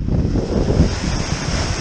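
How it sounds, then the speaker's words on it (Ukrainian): Rough sea surf rolls onto a beach near Alexandroupoli, Greece, as a continuous close wash of breaking waves with wind buffeting the microphone. "якось воно хвилюється, це море"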